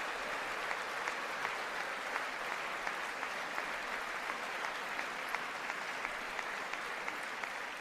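Applause at the 2020 State of the Union address: a large audience claps in a steady, dense, unbroken roar heard from a distance, with no voice over it.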